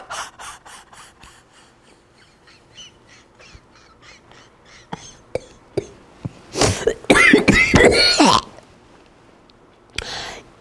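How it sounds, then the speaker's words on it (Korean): A forceful burst of deliberate coughing, loud and rasping, after quieter breathy puffs and a few sharp clicks; a final short cough follows. "이렇게 저처럼 기침이 나와야지 돼."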